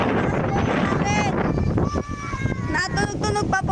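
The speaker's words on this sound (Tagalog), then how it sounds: "Yan ang lakas ng hangin" Strong wind roars loud and continuous against the microphone outdoors, with rattling and flapping noises in it while someone talks over the gusts.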